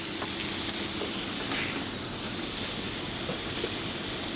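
Steady, loud hissing of steam from a food steamer cooking pak choy that briefly eases off midway and then resumes at full strength.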